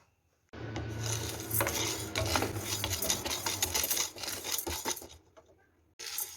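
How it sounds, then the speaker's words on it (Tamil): Large sago pearls dry-fry in a pan, giving a continuous gritty rattle and scraping as they are stirred, moderately loud with brief pauses near the end. "இதை வந்து ஒரு 2 நிமிஷத்துக்கு நம்ம வந்து ஃப்ரை பண்ணி எடுத்துக்கலாம்."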